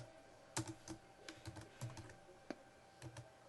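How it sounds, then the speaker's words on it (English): Keystrokes on a computer keyboard while entering text into an Excel spreadsheet, a quiet, close, irregular run of about a dozen clicks over a few seconds with no talk. "I'm going to type in here, monthly"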